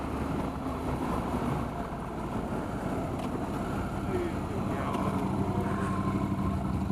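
A 2015 Honda CTX700 DCT ABS motorcycle rides along with a steady engine drone mixed with wind rush, constant and moderately loud throughout.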